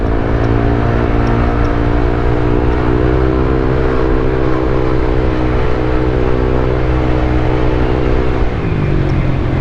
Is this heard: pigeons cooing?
no